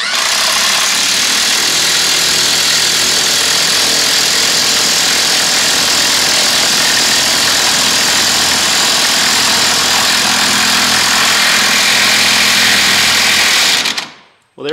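A powered driver sinks a Spax bolt into oak, a loud sustained mechanical whirring and grinding that runs nearly unbroken for about fourteen seconds before cutting off abruptly.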